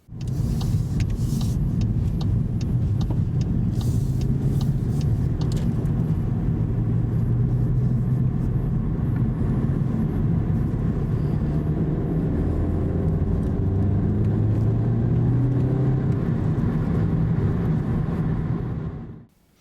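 Inside a Volkswagen Golf GTI on the move, a steady low engine drone and road roar fill the cabin, the pitch rising and shifting gently as the car accelerates, close and continuous until it cuts off.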